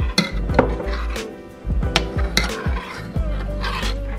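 Cream and half-and-half being stirred in a metal pot for baked mac and cheese, with repeated spoon scrapes and knocks against the pot sides in an uneven rhythm, close and fairly loud, no talking.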